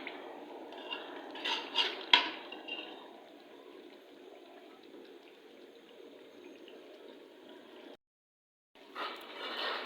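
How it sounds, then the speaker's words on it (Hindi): Potatoes, meat and yogurt stir-fried in a metal pot, with clanking and scraping of a spoon against the pot over a steady sizzle, loudest early on, then a short silent gap before the frying returns. "आलू गोश्त और दही वगैरह एक साथ डाल के इनको फिर से थोड़ी देर के लिए भून लेते हैं।"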